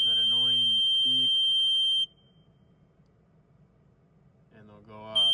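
A steady high electronic warning beep from a tractor planter monitor sounds for about two seconds, briefly overlapping a man's speech, then cuts off; a short beep returns at the end as he talks again.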